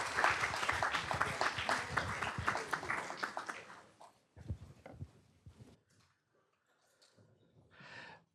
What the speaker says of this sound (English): Let's give our award winners another round of applause